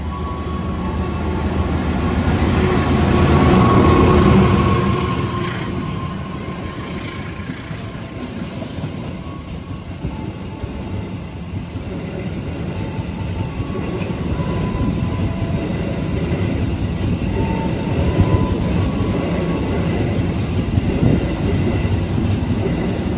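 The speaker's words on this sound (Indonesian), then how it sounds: "Yang barusan melintas adalah kereta api Jayakarta dari stasiun Jakarta Pasar Senen tujuan stasiun Surabaya Gubeng" The Jayakarta passenger train, Jakarta Pasar Senen to Surabaya Gubeng, with stainless-steel executive carriages, rumbles past up close, a continuous heavy roar of wheels on rails that swells early and then holds steady.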